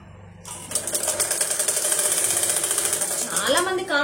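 A sewing machine stitches cloth in a loud, steady, rapid mechanical run that starts abruptly and holds for several seconds, while a voice talks over the end.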